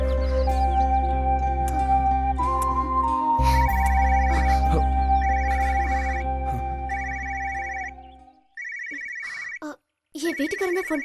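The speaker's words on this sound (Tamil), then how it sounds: "என் வீட்டுக்காரன் தான் ஃபோன் பண்றா." A mobile phone ringtone sounds in a scene from a Tamil-dubbed romantic film, repeating bright chirping bursts that start under swelling music and continue alone after it fades, briefly cut off once.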